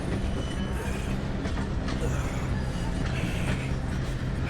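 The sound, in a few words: train running in video game Red Dead Redemption 2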